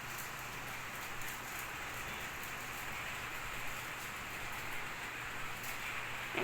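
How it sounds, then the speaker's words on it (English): Rain falls in the video game Melon Playground as a soft, steady hiss of drops that continues evenly throughout, with no voices. "Those thingy sounds are just the rain."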